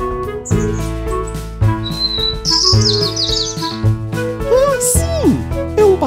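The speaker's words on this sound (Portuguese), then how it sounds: "Passarinho?" Bird chirps and whistled tweets ring out in a forest scene, bright rising calls between bursts of children's-style song with music and chatter around them.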